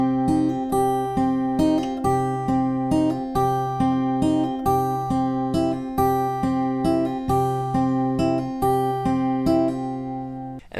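Fingerstyle acoustic guitar plays a theme intro, a repeating plucked melody with steady rhythmic phrases and ringing bass notes, clear and close for about eleven seconds with no talking.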